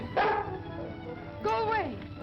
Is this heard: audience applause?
no